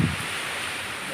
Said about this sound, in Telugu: ఇప్పుడు మళ్ళా ఎక్కువ అయిపోయింది గాలి